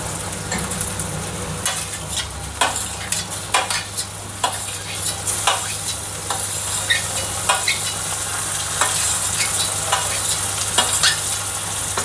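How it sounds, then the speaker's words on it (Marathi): Tomatoes, onion and green chilli fry in oil in a pan, giving a loud continuous close sizzle with regular clacks and scrapes of a spatula stirring. "आता हे टोमॅटो टाकूया आपण."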